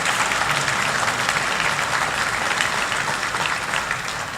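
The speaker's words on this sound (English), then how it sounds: "I especially want to have you give a round of applause to those last two folks at Liza's Garden and the Wayward Rose" Sustained, dense applause from a large audience fills a healthcare gala hall, steady and loud throughout with no break.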